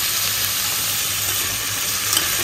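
Vegetables sizzling in a hot pan, a loud, dense, continuous frying hiss held close for a couple of seconds with no talking.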